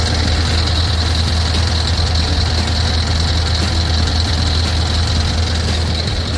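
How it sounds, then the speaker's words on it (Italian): A Scania R560 V8 truck with a 560-horsepower engine idles with a steady, deep rumble, loud and close, with a constant mechanical hum and no talking throughout. "Se facciamo parlare un attimo il motore."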